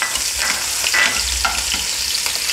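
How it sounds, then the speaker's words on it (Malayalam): Three chopped green chillies sizzle and crackle in hot oil left from frying bitter gourd, a steady close-up frying hiss with occasional stirring scrapes and no talking. "ഇനി നമ്മളെ പാവയ്ക്ക വറുത്ത് കോരിയ എണ്ണയിൽ തന്നെ നമ്മൾ അരിഞ്ഞു വെച്ചിരിക്കുന്ന മൂന്ന് പച്ചമുളക് അതും കൂടെ ജസ്റ്റ്"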